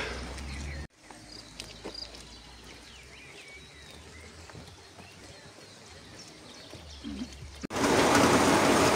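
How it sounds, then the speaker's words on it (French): Rain falls outdoors in a steady patter, moderately close, with a heavier wash of rain at the end and a voice speaking briefly. "C'est la pluie, la pluie, la pluie."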